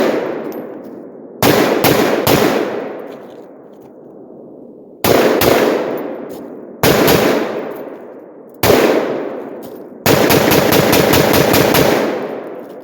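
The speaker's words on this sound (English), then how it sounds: "So we're gonna fire some shots here" A Palmetto AR-10 rifle fires outdoors at dusk in loud, sharp reports with echoing tails, starting with a quick burst of three, then single and paired shots, ending in a rapid string of shots.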